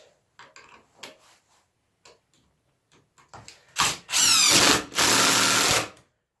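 A power drill whirs in two sustained bursts near the end, driving a screw into cracked lumber, after a series of quiet clicks and handling knocks.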